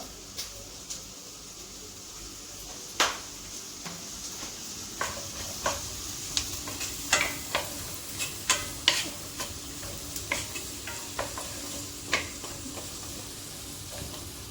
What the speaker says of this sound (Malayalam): ഇതിലേക്ക് നമ്മൾ കട്ട് ചെയ്ത് വെച്ചിരിക്കുന്ന ഗ്രീൻ ചില്ലി, പച്ചമുളക് ഇട്ട് കൊടുക്കുക.